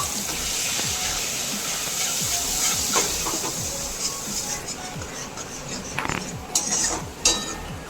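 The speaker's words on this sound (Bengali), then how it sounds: "মশলাটা খুব ভালো মতো কষিয়ে নিচ্ছি।" A paste of cumin, coriander and turmeric spits and sizzles in hot oil, a dense steady hiss up close with occasional clinks of a spoon against the pan.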